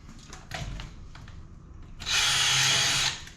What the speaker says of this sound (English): I just drill them out.